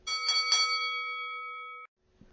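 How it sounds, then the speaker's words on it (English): A single resonant bell from the video game Drakkhen strikes with a bright, clangy attack, then rings as a sustained pure tone that cuts off abruptly, leaving near silence. "The sound of that bell means it is time for you to go forth and collect those 8 dragon tears to save the world."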